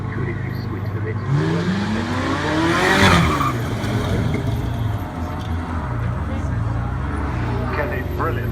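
Car launching hard at Goodwood Festival of Speed 2017, engine revving and rising sharply through the gears past the listener, with a commentator talking over it and a crowd murmur beneath.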